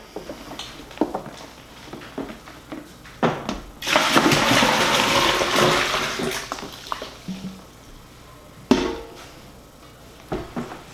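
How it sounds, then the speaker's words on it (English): Ice and turkey brine pour into a bin in a steady, splashing rush lasting a few seconds, framed by lighter clunks and rattles of ice before and after. "So I'm gonna take all this ice, I'm gonna dump that in there."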